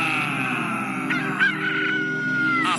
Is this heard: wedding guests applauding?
no